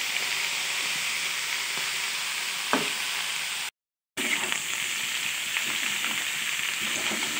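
Bitter gourd and potato slices frying in oil in a pan, a loud continuous sizzle with occasional stirring scrapes and a brief break midway, no talking.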